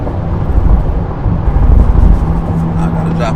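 An Acura Integra's engine revs hard in fifth gear while overtaking another car, a loud, dense, steady drone heard from inside the car with no break in the roar.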